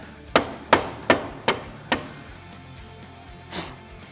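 A Polaris RZR Pro R tie rod end being tapped onto its pin, five sharp, evenly spaced metallic knocks close by, then a pause and one softer final tap, with no talking.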